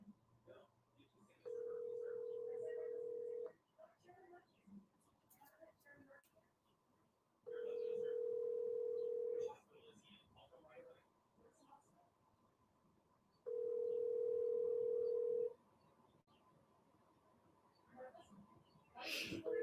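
A telephone handset gives three steady tones of about two seconds each, evenly spaced during a call, with quiet talk and small background noises filling the gaps.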